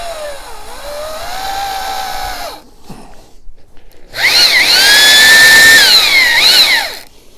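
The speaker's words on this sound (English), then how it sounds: "Line our drill up with the other line." A power drill whines loudly in two bursts, its pitch rising and dipping under load, separated by a short pause with a few soft knocks, while drilling a crossmember into a log bench.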